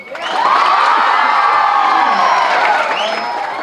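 A college audience at a lively campus event cheers and shouts in a loud, continuous roar, with clapping mixed into the crowd noise.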